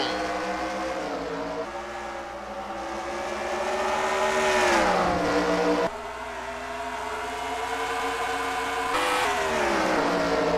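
Race cars roar off at the start of a dirt-track race at Bristol in a racing video game, a loud continuous engine drone that rises and falls with revving and shifts.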